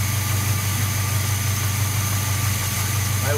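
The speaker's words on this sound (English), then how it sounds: "Sounds like he's got a little bit of a clatter down there in the bottom end." A 1978 Chevy C-10 engine idles steadily and close by, a low droning rumble with a faint clatter from the bottom end that hints at a worn rod.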